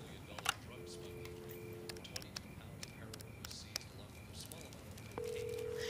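A phone ringback tone sounds in two bursts, quiet and thin like through a handset, amid faint clicks and soft room noise.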